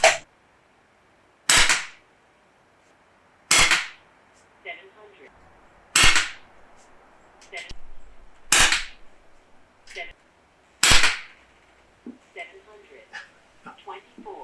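Umarex Notos PCP air rifle firing Terminator pellets in a backyard, six sharp cracks spaced a couple of seconds apart, each followed by faint clanks and small noises between shots.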